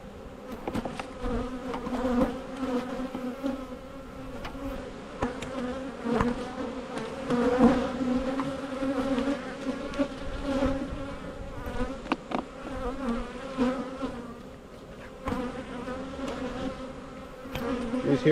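Honey bees buzz loudly and continuously at an open hive after being smoked, a dense and steady swarm drone with no voices.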